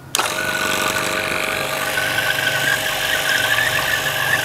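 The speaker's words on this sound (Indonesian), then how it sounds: "Kemudian pompa vakum saya nyalakan." A vacuum pump switches on with a sudden onset and then runs at a steady, loud, close whine with a high squealing tone, used to draw a vacuum on a plastic bottle of water.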